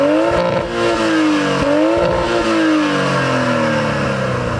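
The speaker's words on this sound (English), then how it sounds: "you've also got dual exhausts, which genuinely sound terrifying" A 2024 Toyota Supra with a manual gearbox revs hard through its dual exhausts, loud and close, the engine note climbing and falling in two or three repeated bursts.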